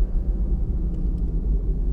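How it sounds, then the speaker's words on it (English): A 2017 Toyota RAV4 LE AWD accelerates with a low, steady engine and road rumble from inside the cabin, moderately loud and unbroken, with no one talking. "This car is just really, really eager to accelerate."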